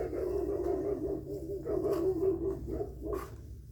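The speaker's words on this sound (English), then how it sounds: "And the dogs are really carrying on out there." Great Pyrenees dogs bark and growl outdoors at a distance, irregular muffled woofs rising over a low steady background hum, with no voices.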